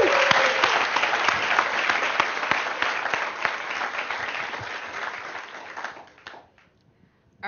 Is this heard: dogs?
no